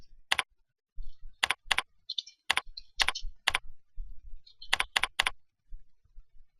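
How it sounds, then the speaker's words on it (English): Bursts of keystrokes on a computer keyboard as a search keyword is typed, with several quick clusters of crisp clicks separated by short pauses, close and clear with no talking. "if I was to type in there healthcare"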